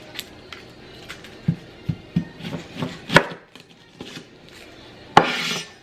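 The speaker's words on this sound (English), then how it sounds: "now I'm going to start with cutting 2 onions" A knife chops two onions on a wooden cutting board in a home kitchen, irregular close thuds and slicing scrapes, a dozen or so strokes, ending with a louder scraping sweep of the board.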